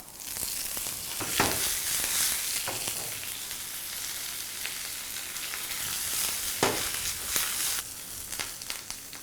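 Cumin, chopped green chili, ginger and curry leaves crackle and sizzle steadily in hot oil for a tempering, close up, with occasional sharp pops and stirring scrapes, no voices.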